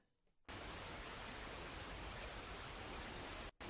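Steady heavy rain pours down in a dense, loud broadband hiss that starts abruptly and keeps a constant level, with a brief dropout just before the end.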